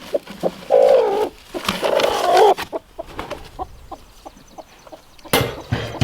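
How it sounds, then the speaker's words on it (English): A broody hen makes low, drawn-out clucks and throaty purring calls, with scattered softer clucks and a few thuds and rustles nearby. "Well, Miss Broody Hen, come on"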